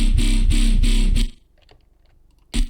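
Harsh, buzzy wavetable synth chords pulsing rapidly with a gritty, abrasively filtered edge, then a pause of near silence before one more short stab.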